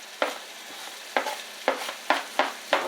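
Onions, peppers and broccoli sautéing in a pan, a steady sizzle broken by six sharp, evenly spaced stirring scrapes, close and clear.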